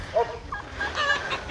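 A partridge calls in a rural setting with harsh, clucking fowl-like notes, a few broken calls rising over a low rumbling background at moderate distance.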